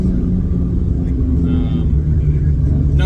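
A constant low engine rumble fills a car at a TX2K roll race, with a 1600 horsepower Audi R8 as the opponent, loud and steady throughout, and faint voices underneath.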